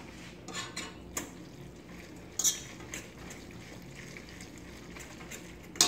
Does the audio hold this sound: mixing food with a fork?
yes